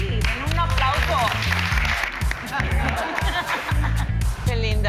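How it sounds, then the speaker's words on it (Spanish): An audience at a Drag Latina show bursts into applause with scattered laughter and chuckles, the clapping loud and continuous while voices and cheers ring over it. "den un aplauso"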